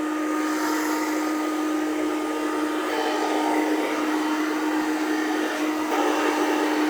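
A hair dryer blows steadily on a man's thick, medium-length hair during a haircut and styling, a continuous close airy whoosh with no talking over it.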